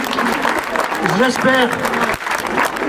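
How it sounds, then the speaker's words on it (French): Brief applause from an audience at an urban trail running event in Lunel, France, with a voice speaking over the clapping for most of its length. "Je voudrais de votre part vraiment une salve d'applaudissements"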